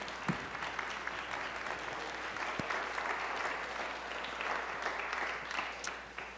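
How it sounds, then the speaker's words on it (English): Applause from a hall audience for speaker Brandon Pope after his MLK speech, a steady, continuous wash of clapping heard from a distance and fairly faint throughout. "can we give Brandon another round of applause for that speech?"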